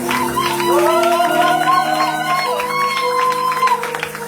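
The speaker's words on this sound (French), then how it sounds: "Est-ce qu'on peut monter avec nos acclamations?" A church congregation claps and cheers during a worship service, a sustained wash of applause and shouts layered with sung or held tones, fairly loud and continuous.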